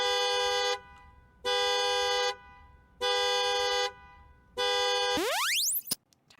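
A car horn honks four times in long, even blasts at a regular rhythm, loud and close, then a rising electronic sweep and a sharp click end the sequence.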